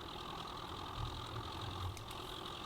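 A tractor in Farming Simulator 2015 idles with a steady, even mechanical drone and a faint low rumble, heard alone, with a couple of small clicks near the end.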